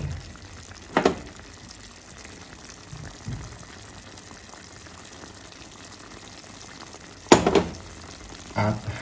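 Pork adobo with salted black beans and crushed pepper in a pan, a quiet simmer running throughout, broken by a few sharp scrapes and clinks of a spoon stirring, near and otherwise calm with no voices.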